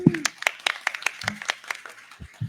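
Scattered applause from a small audience at a queer art exhibition presentation, a sparse patter of individual claps with a few louder cracks, fairly close and moderately quiet, with brief voices underneath.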